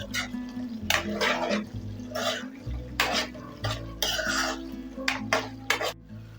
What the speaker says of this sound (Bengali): এটা ভালো করে একটু নাড়াচাড়া করে নেব।